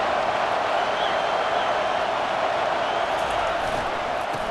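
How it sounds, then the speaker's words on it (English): Loud, steady roar of a football stadium crowd during a Temple vs Alabama game, building on a third-down defensive stand, a dense continuous wall of noise throughout. "Decibels rising as the crowd gets behind this defense on 3rd down."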